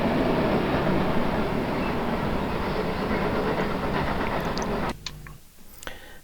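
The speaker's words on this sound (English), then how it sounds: "And that was a train." A train passing close by, a dense, steady broadband roar of rolling wheels and rail rumble sustained for about five seconds before cutting off abruptly into near quiet with a couple of faint clicks.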